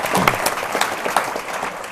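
An audience at a school panel breaks into brisk applause, many hands clapping loudly and continuously for a couple of seconds.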